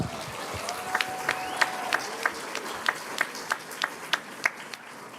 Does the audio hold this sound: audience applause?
yes